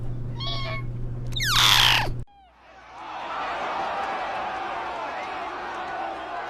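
A cat gives a short meow near the start, followed by a loud burst of laughter and then a sustained crowd-like roar; a voice is heard briefly.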